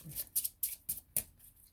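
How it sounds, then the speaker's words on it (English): Tarot cards are shuffled close by in short, quiet bursts, four or five soft crisp riffs in quick rhythm. "And I'm shuffling."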